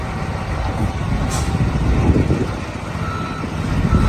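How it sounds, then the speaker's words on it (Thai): A LiuGong 835H long-arm wheel loader scooping cassava in Lopburi rumbles steadily up close while a reversing alarm beeps faintly and repeatedly over the engine noise. "นี่คือลักษณะการทำงานของรถนะครับ รุ่น 835H แขนยาวนะครับ"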